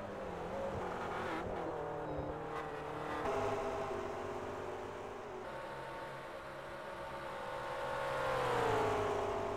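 Race cars lapping a circuit during qualifying, a steady engine drone with rising and falling pitch as cars pass and accelerate, continuous and moderately loud with no talking.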